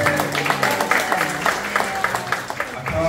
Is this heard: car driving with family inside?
no